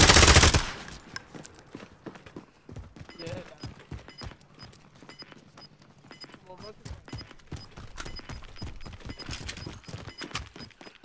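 Gunfire in the Warzone battle royale video game, scattered sharp shots and short bursts over a busy game soundscape, with a player talking over it.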